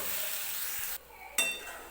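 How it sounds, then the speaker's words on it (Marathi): Water splashed into masala frying in a pan for a dhaba-style egg curry, a steady hiss and sizzle that drops away for a moment and then flares up again with a fresh burst. "सुरुवातीला हेच पाणी मी या मसाल्यामध्ये टाकणार आहे."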